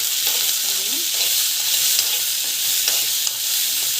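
Onions sautéing in a hot pan with a little salt, giving a loud, dense, continuous sizzle with occasional soft stirring scrapes close by.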